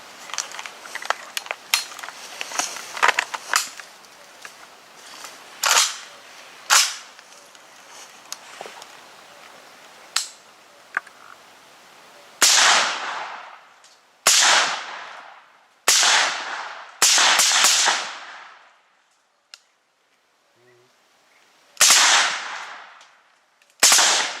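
Muffled AK-74 rifle shots with a 5.45mm suppressor crack out one at a time, fainter ones first, then a run of louder, sharper reports with short pauses between.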